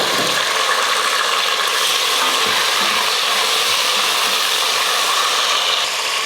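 Onions and tomato sizzle and sauté in a pan while cooking for chicken biryani: a steady, loud, continuous hiss close by with no talking.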